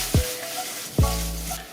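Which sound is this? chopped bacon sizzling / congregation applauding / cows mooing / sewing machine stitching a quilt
chopped bacon sizzling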